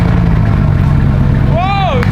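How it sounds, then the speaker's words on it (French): A Bugatti Chiron engine starts up as a low, steady rumble, with a short tone that rises and then falls near the end. "Et incroyable, la Bugatti démarre du premier coup."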